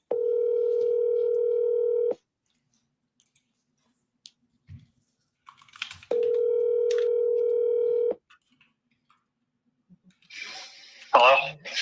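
A telephone dial tone plays as a call is placed, sounding as two steady, loud two-second blocks separated by quiet clicks. Brief rustling and a short burst of voice come at the end.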